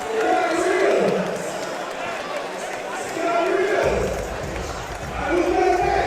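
Crowd at an all-star high school basketball game cheering in waves, rising and falling through the gym, with a commentator talking over the noise.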